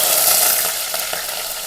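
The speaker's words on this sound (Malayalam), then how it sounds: "ഇപ്പം ഞാൻ തിളപ്പിക്കാൻ ഈ മഞ്ചട്ടിയിൽ എണ്ണ ഒഴിച്ചിട്ടുണ്ട് പച്ചവളം ഇഞ്ചി വെളുത്തുള്ളി" Green chillies, ginger and garlic fry in oil in a clay pot, making a loud, continuous close-up hiss and crackle without pause.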